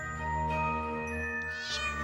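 A cat meows and hisses in the video game Demonheart, a soft, breathy sound over a steady tonal background with no talk.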